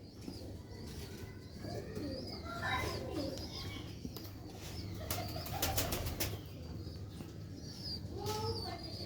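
Pigeons coo softly in low, repeated throaty calls, with a few sharper chirps and faint background noise between them.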